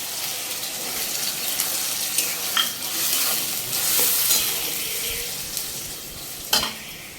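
A paste of ginger, garlic, onion and green chilli fries with peas and mutton keema in a hot pan. The sizzle is loud and close, with continuous stirring and scraping and a few louder clatters. No one talks.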